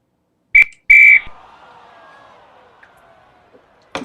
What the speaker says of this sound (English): We've got a whistle on the play